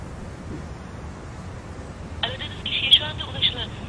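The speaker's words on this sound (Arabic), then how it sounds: "كان عم يرن بعدين صار يطوط." A telephone call on a mobile phone, with a steady electronic tone starting partway through over background noise, and a voice speaking alongside it.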